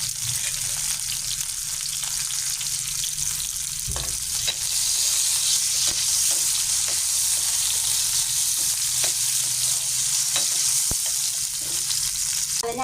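Shallots, garlic and curry leaves fry in hot oil for a mackerel dish, giving a loud, continuous sizzle close by, with occasional pops and the faint scrape of stirring.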